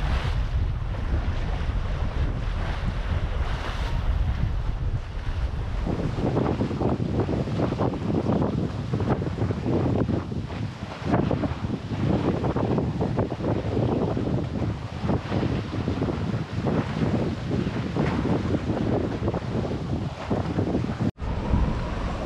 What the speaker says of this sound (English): It's so good to be sailing again.